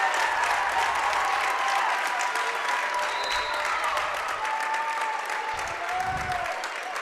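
Home crowd at a high school varsity volleyball senior night roars and applauds after a kill, a dense, sustained wash of cheering and clapping that holds steady for several seconds with scattered shouts.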